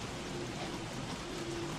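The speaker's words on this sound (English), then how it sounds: "It's raining kind of heavy though." Heavy rain falls in the video game Don't Starve, a soft continuous hiss of downpour heard faintly and evenly on its own.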